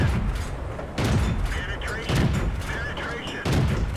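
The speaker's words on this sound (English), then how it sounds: "So I'll pull up and shoot at the SU-100 Yankee." Tank cannon shots in a video game aimed at an SU-100Y, heavy booming blasts at about one-second intervals, loud and close, with someone talking over the gunfire.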